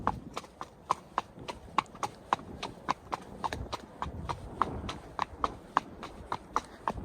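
Horse hooves clip-clop in a steady, brisk rhythm as a mare named Rosie is ridden out on a hack without tack, each footfall crisp and close, with no talking over the hoofbeats.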